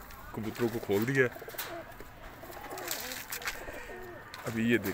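Pigeons coo repeatedly and close by while pecking at scattered grain feed, soft throaty calls rising and falling in short bursts.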